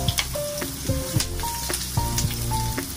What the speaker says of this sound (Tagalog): Kapag uminit na siya, guys, pwede na natin ilagay ang sibuyas.